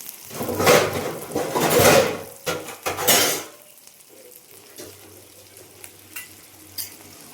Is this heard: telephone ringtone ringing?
no